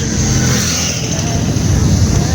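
A car accelerates along a road beside a river in rural Turkey, its engine and tire roar steady and loud from inside the vehicle, with wind and road rumble throughout.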